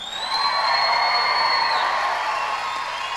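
An awards-show audience applauds and cheers for two performers at a Native music awards ceremony, a full crowd of clapping with whoops and a high sustained shout riding on top, loud and steady throughout.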